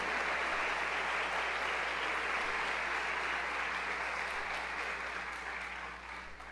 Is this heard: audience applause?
yes